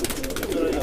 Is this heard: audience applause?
no